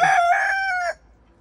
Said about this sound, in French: il y a le coq qui est là qui veille sur tout le monde